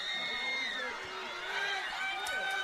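A home crowd at a high school football game, Tanner against Waterloo, cheers and whoops steadily from a distance behind close commentary.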